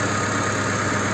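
A Mercedes A-Class engine runs with its power steering pump working constantly, giving a steady close idle hum and whine with a faint high tone and no pauses.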